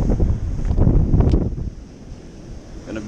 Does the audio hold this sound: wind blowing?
yes